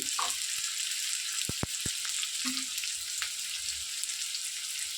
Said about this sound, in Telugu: చిల్లీస్ యాడ్ చేసుకొని ఆనియన్స్ పీసెస్ ఇప్పుడు వీటిని ఫ్రై చేద్దాం